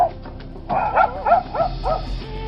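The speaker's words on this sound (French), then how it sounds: "Le vacarme grandissant des chiens qui avaient occupé les alentours du garage" Dogs barking around a garage as an audiobook sound effect, a quick series of four or five yelping barks at moderate loudness over a low background rumble.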